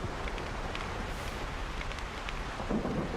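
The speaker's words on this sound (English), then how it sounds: "Don't like being out in the storm." Steady rain and a low rumble of thunder roll through a storm in the video game Solarpunk, a continuous wash of rainfall with no talk.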